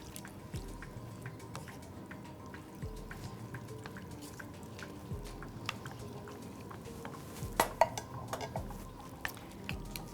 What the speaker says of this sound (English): We'll stir this in with the onions.